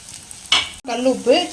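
Onions frying with fennel seeds in oil, a close sizzle with scraping stirs of a spoon against the pan, briefly cut off midway before resuming.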